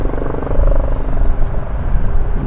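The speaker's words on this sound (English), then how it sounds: "I hear a helicopter out in the distance somewhere" A helicopter somewhere in the distance near Vancouver International Airport gives off a steady low rotor rumble with faint chopping pulses, continuous and fairly loud throughout.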